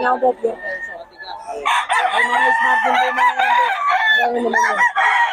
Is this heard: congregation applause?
no